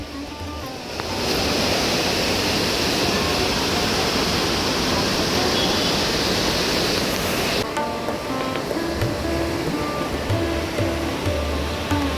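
Water from the mountains rushing down at Gagangiri Math in Khopoli, a loud continuous roar like a waterfall that starts after a brief quieter moment and then holds steady and close throughout.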